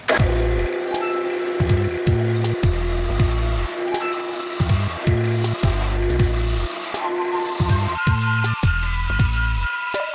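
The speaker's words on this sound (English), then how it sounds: "use my spindle roughing gouge and shape the handle to the shape I like it" A spindle roughing gouge cuts a wooden honey dipper handle spinning on a woodturning lathe, giving loud, rough scraping bursts in repeated strokes over a constant motor whine.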